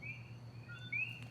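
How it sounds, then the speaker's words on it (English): Puerto Rican coqui frogs calling: faint, short rising chirps repeat over a low steady background hum, distant and sparse. "That sound is the Puerto Rican coqui."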